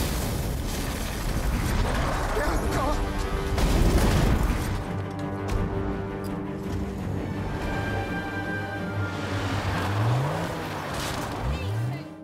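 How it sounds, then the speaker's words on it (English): A deep booming blast from a car bomb rolls out under a dense, loud rumble that lingers and churns, followed near the end by a couple of sweeping engine-like whooshes. "the bomb explodes, resulting in the tragic deaths of the mafias and the innocent children"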